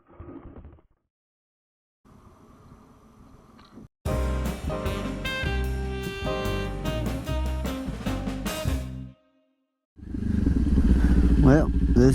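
A motorcycle is ridden after a crash, its engine note heard in bursts separated by silent gaps, with one loud sustained passage and a final rising roar.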